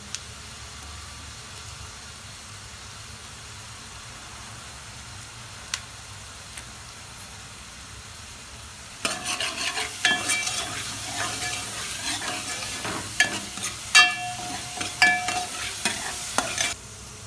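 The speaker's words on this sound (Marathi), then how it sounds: "पेस्ट चांगली परतायला लागली आहे त्या काही मिरच्या फोडायच्या टाकायच्या" Masala paste with green chillies frying and being stirred in a pan for a spicy yesur chicken: faint low hiss at first, then a louder burst of sizzling with scraping spoon strokes and clinks running steadily to the end.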